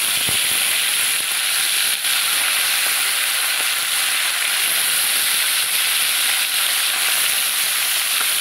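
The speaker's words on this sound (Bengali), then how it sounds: "এক এক করে মাছগুলো তেলের ওপরে দিয়ে দিচ্ছি।" Roe-filled koi fish fry in hot oil in a kadai with a loud, continuous hissing sizzle that holds steady throughout, close up and without voices.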